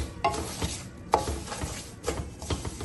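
Dried fruit being stirred into roasted semolina and gram flour in a pan, with several distinct scraping strokes of the spoon, close and moderately loud against a soft sizzle.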